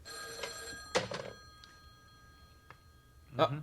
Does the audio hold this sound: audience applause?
no